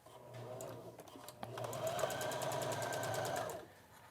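A sewing machine runs a basting stitch along a top's seam, a steady mechanical whir with fast rhythmic needle ticks that starts after a few soft handling knocks and keeps going for about two seconds before stopping.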